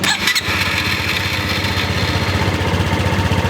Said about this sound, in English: I'm going to start the bike back up,